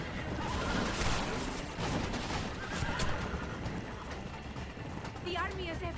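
Horses in Red Dead Redemption whinny amid busy hoofbeats and rumbling game ambience, with a shrill neigh rising near the end over the ongoing noise.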